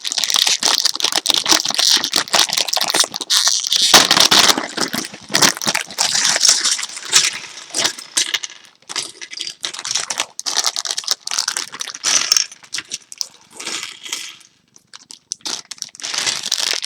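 A LEGO Ninjago Samurai X Cave Chaos parts bag opened by hand, giving a close, loud, continuous plastic crinkling and rustling with rattling pieces that eases off briefly near the end.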